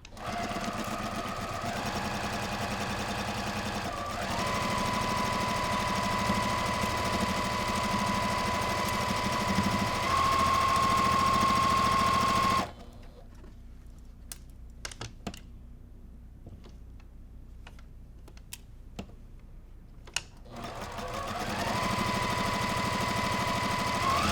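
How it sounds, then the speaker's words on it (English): A sewing machine stitches a quarter-inch seam down a quilt block, running loud and steady for about twelve seconds, stopping for a quiet stretch of small clicks and handling, then starting up again. "We're going to stitch with a 1/4 inch seam all the way down."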